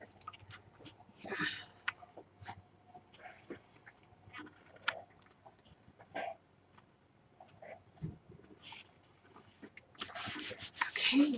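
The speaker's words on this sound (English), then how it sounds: "And then again, you're just going to burnish these down." Paper on a mini album page is burnished down by hand with soft, irregular rubbing strokes close by, finishing in a louder scraping burst.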